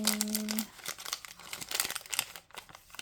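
Plastic packaging of a mini Labubu blind box crinkled and torn open close up, a run of irregular crackles and rustles lasting a few seconds, with a brief tone at the start.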